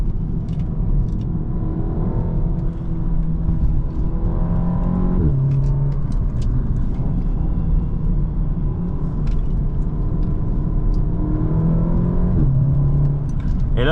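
An Audi S3 8V sedan pulls hard in second gear out of a bend, its engine note climbing through the revs with a brief dip at a shift, heard from inside as a loud, steady rumble.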